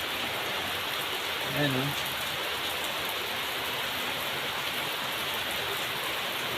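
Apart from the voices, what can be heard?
rain falling during the rainy season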